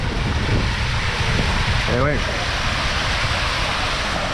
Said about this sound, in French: Il y a des vagues énormes.